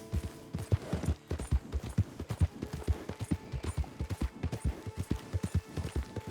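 Galloping horse hooves in the Red Dead Online video game, a steady rapid clip-clop of hoofbeats striking the ground, close and fairly loud throughout with no talking.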